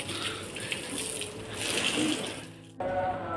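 Water gushes and splashes steadily while a car is washed outdoors in hot Qatar sun, a continuous near hiss that drops briefly before resuming.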